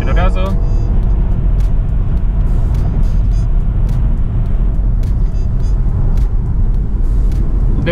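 A BMW 4 Series or X3 accelerating hard on an open road just outside town, with a steady loud engine and road rumble throughout, and light speech-like sounds over it.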